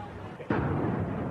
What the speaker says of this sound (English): There's small explosions still going on.